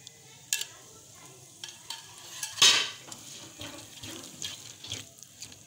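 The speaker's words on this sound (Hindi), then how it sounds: "बादाम पिस्ता फ्राई हो चुका, अब इसको हम इसमें हलवे में शामिल कर देंगे।" Fried almonds and pistachios are stirred into chana dal halwa in a pan: faint scraping and soft sizzling with a few sharp utensil clinks, one louder clatter midway, no talking.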